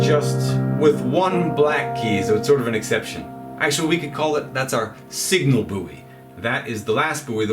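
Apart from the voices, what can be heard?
No distinct noise like a dog, phone or traffic.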